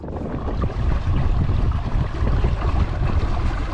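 A daysailer sailboat moving fast and heeling, with steady rushing wind and water noise close by, broadband and continuous with no voices.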